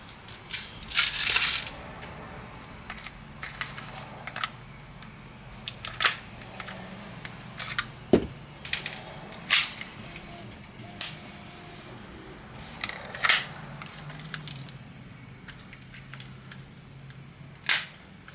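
A full magazine emptied in a video game comes through as about a dozen sharp, dry snapping shots fired singly at irregular intervals, close and crisp over quiet background, with no talking.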